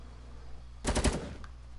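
Video game gunfire, a quick automatic burst of several loud, close shots packed into under half a second, then a faint follow-up report over a low background hum.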